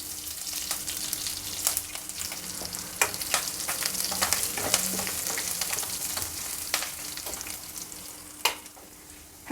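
Curry leaves and crushed garlic fry in hot oil for a ridge gourd curry, a loud continuous sizzle with scattered crackling pops and occasional stirring, close and without voices.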